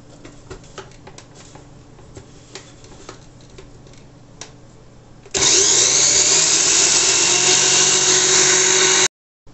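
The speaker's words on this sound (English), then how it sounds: "I'm doing it moderately because my grinder is a small one" A small kitchen grinder whirs loudly and steadily as it blends jerk sauce ingredients. It starts abruptly after some quiet clinks and runs for about four seconds before cutting off.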